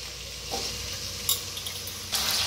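Chopped potatoes fry in hot oil in a kadhai for sabudana khichdi, a steady soft sizzle broken by scraping stirs and brief louder crackles.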